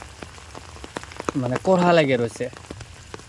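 Rain falls steadily on a village where cattle and a calf stand sheltering, a soft constant patter of drops running throughout while someone speaks over it in the middle.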